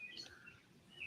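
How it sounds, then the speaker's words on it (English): Birds chirp faintly in the background with a few short, high tweets scattered across a quiet outdoor setting. "listening to the birds in the background"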